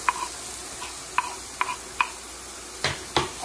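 Minced fresh garlic and browning mushrooms stirred in a pan for linguine with brie and bacon: a low sizzle under a string of sharp spoon taps and scrapes against the pan, about eight separate knocks, close and clear.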